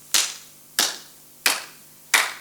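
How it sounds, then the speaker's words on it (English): Four sharp hand claps sound at a slow, even pace about two-thirds of a second apart. Each is crisp and close, with a short decay, and nothing else is heard between them. "I can show you what different frequency of a movement like a clap can be."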